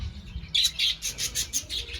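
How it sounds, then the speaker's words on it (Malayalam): Lovebirds in an aviary at a church in Pattumala give a run of rapid, high, bright chirps in quick succession, close and clear against a quiet background. "ലവ് ബേർഡ്സ് ഒക്കെയാണ് ഇഷ്ടംപോലെ ഉണ്ട്"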